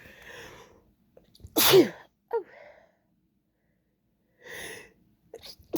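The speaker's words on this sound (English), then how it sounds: "I'm gonna sneeze, excuse me." One sharp, loud sneeze from a person bursts out of near silence, followed by a couple of short breathy sounds and a brief spoken exclamation.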